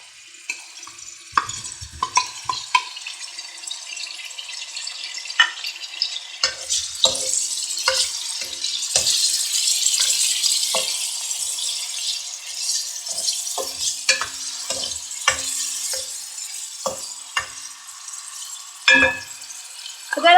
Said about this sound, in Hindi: ऑयल हमारा गर्म हो गया है, इसमें हमने अपने गोश्त ऐड कर लिया